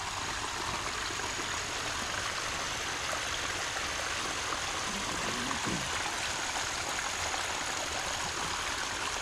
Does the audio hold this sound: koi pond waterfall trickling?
yes